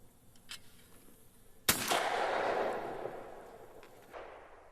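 A single loud shotgun blast fired at a clay target, a sharp crack followed by a long rolling boom that fades over a few seconds, with faint quieter sounds before it.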